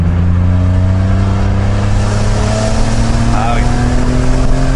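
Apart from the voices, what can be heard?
car engine revving and accelerating, manual gearbox, reinforced clutch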